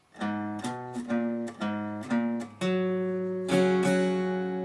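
An electric guitar plays a riff starting on the open low string, crisp plucked notes stepping along before settling into sustained chords.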